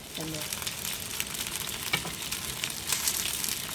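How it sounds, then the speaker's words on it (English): Steady oil sizzle from dumplings pan frying, a continuous crackling hiss with a brief clink partway through. "just let it pan fry until it's sizzling and brown, lightly brown"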